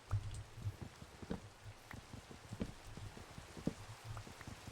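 Steady rain in Minecraft patters with scattered drips and soft taps, fairly quiet and continuous, with no voices over it.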